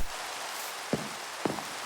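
Steady hissing rain falls in the Minecraft video game, a soft even wash of noise with two brief clicks cutting through it and no voices.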